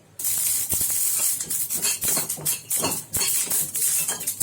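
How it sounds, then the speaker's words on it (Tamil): Whole cloves, cardamom and garlic dry-roasting in an empty kadai, giving a loud, continuous hiss and sizzle with scattered crackles and pops, and no talking. "இதெல்லாம் இந்த வெறும் கடாயில் போட்டு கொஞ்சம் செவப்பாக வறுத்துக்கலாம்"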